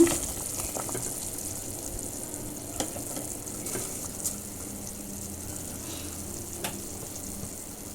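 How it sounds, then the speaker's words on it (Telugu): A pot of water for rice bubbles and simmers steadily up close, with occasional sharper pops and clicks over a constant hiss. "ఇదిగో ఈ విధంగా తెరులుతున్న ఎసురు"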